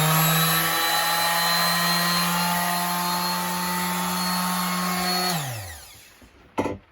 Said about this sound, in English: I'm going to start a bit of sanding